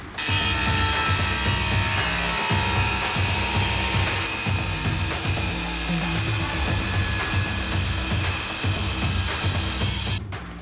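A Marcrist MC850 diamond blade on a power cutter grinds through grade 5 porcelain tile, a loud continuous whining, rasping cut with rhythmic pulsing lasting about ten seconds before stopping abruptly.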